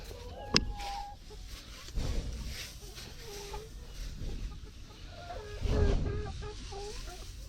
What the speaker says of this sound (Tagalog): ito na yung mga decal brown na bago kong alaga